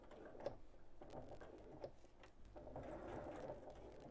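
Sewing machine stitching fabric around a curve: a quiet, continuous mechanical whir with faint rhythmic ticking, close and low, with no talking.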